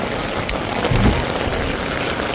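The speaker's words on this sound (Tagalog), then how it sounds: "Ang lakas ng ulan." Heavy rain pouring steadily in the Philippines, a dense continuous hiss of drops drumming on surfaces, loud and close throughout with a few brighter splashes.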